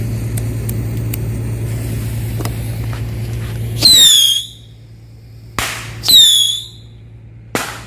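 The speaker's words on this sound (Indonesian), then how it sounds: "Selanjutnya kita cobain 5 petasan air travel" Firecrackers exploding outdoors, two loud sharp bursts each followed by a short squealing hiss, with a few smaller pops and a steady low hum earlier.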